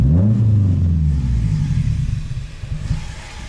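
A Nissan Silvia S14 engine, warmed up to temperature and fitted with a replacement mass airflow sensor, revs up strongly in a loud, close, steady rumble, its pitch sweeping up then settling into a rougher idle.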